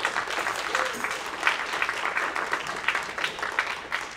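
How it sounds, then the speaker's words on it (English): Audience applause for the percussion section at a school spring band concert, a steady wash of many hands clapping at moderate distance, with a few voices mixed into the crowd. "Let's hear a round of applause for all my percussionists"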